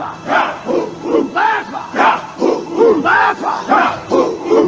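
A soundboard war-call effect fires off a crowd battle cry, with massed voices yelling in repeated surges about every half second, loud and close, with no talk over it.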